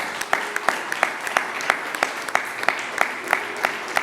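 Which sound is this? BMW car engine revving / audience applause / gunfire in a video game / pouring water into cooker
audience applause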